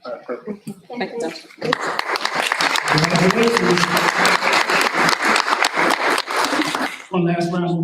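An audience at a school board meeting breaks into loud, sustained applause, many hands clapping close and full, with speech heard briefly before it begins and as it fades.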